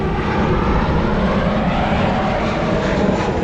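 A loud, steady roar of a Southwest Airlines passenger jet passing close overhead, a dense engine rumble filling the whole stretch.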